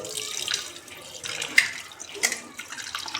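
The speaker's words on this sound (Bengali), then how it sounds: "এইবার মটনটাকে ধুয়ে নেব" Mutton is washed by hand under a running kitchen tap, a close, continuous splash of water with a few sharper splashes and drips as the meat is handled.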